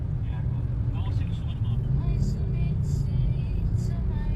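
Car being driven by Maxi, a steady low engine and road rumble continuing throughout with faint voices talking over it.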